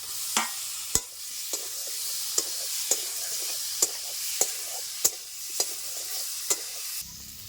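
Fried potatoes being stirred into sizzling masala for a gozar fish curry, a steady high frying hiss broken by about ten sharp spoon scrapes and knocks against the pan, close and fairly loud, with no talking.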